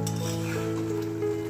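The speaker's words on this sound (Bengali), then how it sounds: "আর এই মশলাটা কষানো হচ্ছে" Chicken masala sautéing in a pan, a soft, steady sizzle with faint stirring, close and quiet, over about a second and a half with no talking.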